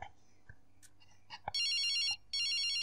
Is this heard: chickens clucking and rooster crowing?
no